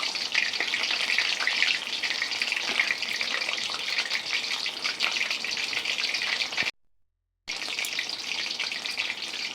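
Chicken pieces coated in mustard batter fry in hot oil with a loud, steady, close sizzle that crackles continuously, broken by one brief silent gap before the bubbling resumes.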